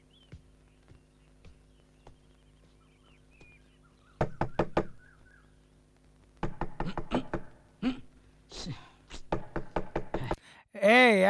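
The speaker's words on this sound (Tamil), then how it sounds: "ஏய் யாரா அது நடுராத்திரில கதவை தட்டிக்கிட்டு" Sharp knocks on a door at midnight, rapid clusters of loud close raps separated by pauses, preceded by faint quieter taps, with a voice calling out at the very end.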